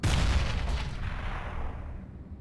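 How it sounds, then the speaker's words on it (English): A grenade detonates in Counter-Strike: Global Offensive, a loud close boom at the start that rumbles and fades away over about two seconds, with no voices. "Grenade out!"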